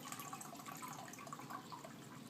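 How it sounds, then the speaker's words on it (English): Water poured from a tap into an emptied formula can to refill it with about 8 ounces, a steady, soft splashing rush running evenly and close by, with no voices. "go ahead and refill the can with another 8 ounces of water"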